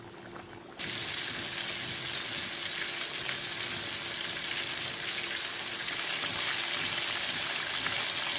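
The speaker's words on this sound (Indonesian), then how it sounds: "Oke, minyaknya sudah panas, kita goreng." Chicken pieces for ayam geprek dropped into hot oil, bursting into a loud, continuous sizzle after a brief quiet moment and frying steadily close by without any talk.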